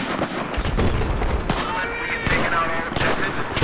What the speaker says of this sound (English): All open fire at the same time.